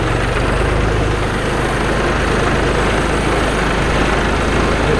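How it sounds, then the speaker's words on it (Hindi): A tractor engine runs while being driven, a steady, loud, low rumble close by, continuous throughout without speech. "सही चला लिया भाई ट्रैक्टर"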